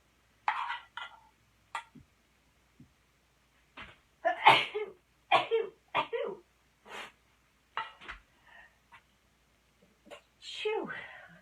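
Sharp sneezes burst out up close among short vocal sounds and noises, with quiet pauses between them.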